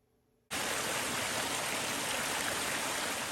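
A steady, loud rush of falling water cuts in abruptly after a brief quiet moment and carries on evenly to the end.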